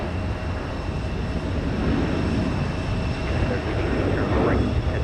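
Jet airliner engine roar at Houston George Bush Intercontinental Airport, a steady, loud broadband rumble holding for the whole stretch, with a radio or voice faintly underneath.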